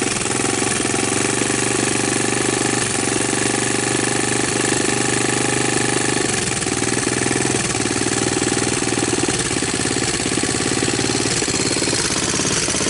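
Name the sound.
Honda TRX200SX ATV engine idling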